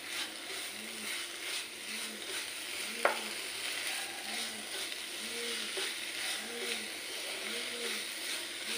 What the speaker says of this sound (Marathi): आता पुन्हा व्यवस्थित मिक्स करून घ्यायचे आहे.